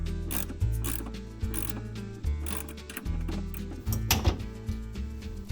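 A ball joint separator on a 1977 C3 Corvette is cranked tight with a wrench, giving repeated ratcheting clicks and grinding metal strokes in short bursts, close and fairly quiet, no talking.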